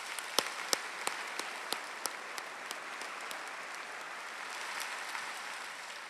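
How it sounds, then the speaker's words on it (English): Audience at a university fall graduation ceremony applauding in a large hall, a steady wash of many hands clapping with a few sharp individual claps standing out, sustained for several seconds without talk. "Let's have a round of applause for this special group of leaders."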